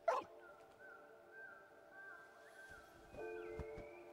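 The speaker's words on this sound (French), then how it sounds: "c'est un chien fantôme" A ghost dog in the video game Neva lets out a sharp yelp, then a long, eerie whining tone lingers before another burst of whimpering yips near the end, fairly faint overall.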